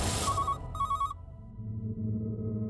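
A telephone rings in bursts of electronic trills, two clear ring pulses up front, as someone places a call to a jail; afterward a low hum carries on with no voices.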